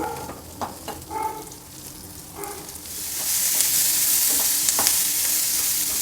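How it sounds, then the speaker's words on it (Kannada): Onion and garlic fry in a hot pan, a steady sizzle that swells louder and fuller partway through, with a few scraping stirs early on and no voices. "ಈರುಳ್ಳಿ ಸ್ವಲ್ಪ ಫ್ರೈ ಆಯಿತು ಈರುಳ್ಳಿ ಬೆಳ್ಳುಳ್ಳಿ"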